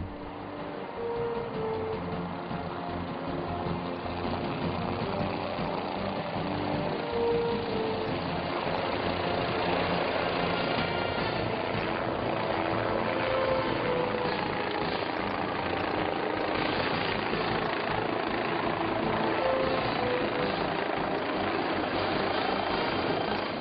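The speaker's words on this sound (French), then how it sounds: "l'acheminement de 12 mètres cubes de béton par hélicoptère en plus de 200 rotations" A helicopter ferrying concrete to a high-altitude worksite drones steadily and loudly throughout, a continuous engine and rotor roar with no pauses.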